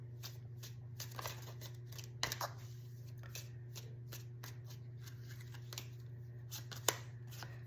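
Oracle cards are shuffled by hand in quick, repeated papery riffles and soft slaps, close and fairly faint over a steady low hum.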